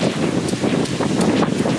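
Gusting wind buffets the microphone during a rainy outdoor run on a cycling route around a lake, a loud, steady roar with irregular thumps and rustling bursts close to the mic.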